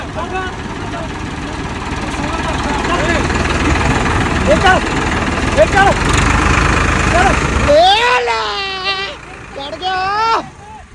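A tractor, push-started by two men, runs with a steady rumbling idle under continuous outdoor talk; near the end, higher rising and falling voice-like sounds come in over the engine.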